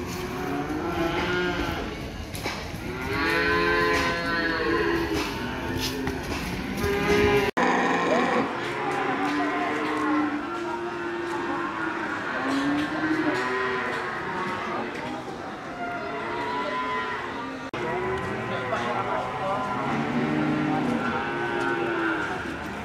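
Cattle at a busy livestock market in Gamping, Yogyakarta, moo repeatedly, several long calls rising and falling near and farther off, over a constant crowd murmur with people talking in the background.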